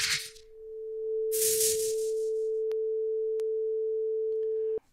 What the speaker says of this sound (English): So that's just a sine wave.